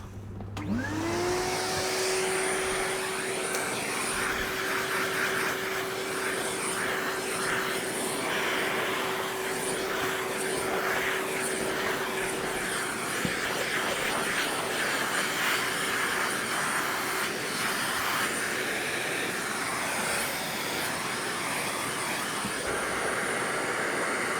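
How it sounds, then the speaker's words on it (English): A Hoover Junior U1104 vacuum cleaner whirs steadily and loudly the whole time, with a rising whine as it starts up and a constant high-pitched drone. "I'm going to remove it from there, like so, and vacuum up the mess."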